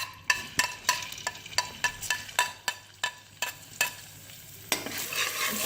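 Ginger garlic paste frying in hot ghee over a high flame, with a steady sizzle and a run of sharp stirring scrapes and taps of a spoon against the pan, close by and fairly quiet.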